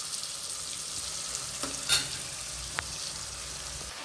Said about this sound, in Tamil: லோ ஃப்ளேமில் வச்சு நம்ம அப்படியே ஃப்ரை பண்ணணும்.